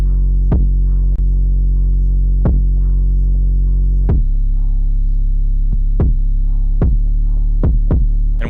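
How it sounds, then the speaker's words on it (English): Punchy kick drum hits layered over a deep, sustained 808 bass that booms continuously, with irregular kick rhythm and no voices. "this is what the kick and the 808 sound like together."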